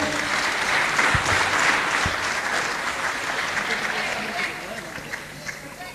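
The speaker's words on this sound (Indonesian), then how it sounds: "Monggo Cak Dik Doang, kita berikan aplaus untuk Dik Doang." An audience at an evening talk event applauding a guest, a dense sustained burst of clapping that gradually thins toward the end, with a voice speaking over it.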